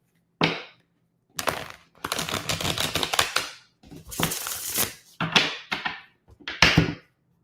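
Tarot cards are shuffled close up in a run of crisp riffling and flicking bursts, each followed by short pauses, with no talking over them.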